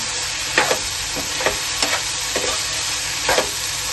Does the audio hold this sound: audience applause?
no